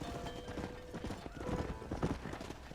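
Horse hooves clip-clop in Red Dead Redemption, a quick, steady run of hoofbeats at close range over a low rumble and background music.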